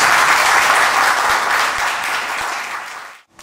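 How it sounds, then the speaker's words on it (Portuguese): A church congregation applauds steadily and loudly through a Sunday service, the dense clapping holding for about three seconds before cutting off abruptly into near silence. "Então aplauda Jesus de todo o teu coração, todo o coração."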